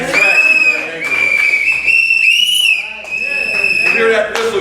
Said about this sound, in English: You hear that whistle, you know it's time to act